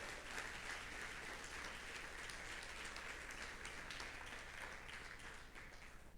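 A church congregation applauds steadily during a Sunday service, a dense wash of clapping that holds even throughout and fades slightly at the end.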